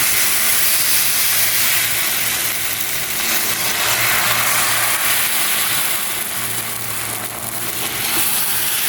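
Sandwich batter poured onto a hot oiled griddle gives a loud continuous hiss, a dense steady sizzle close up that barely changes across its length.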